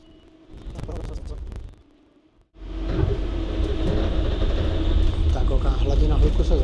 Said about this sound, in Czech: hladina hluku se zvedá, Šalina se rozjíždí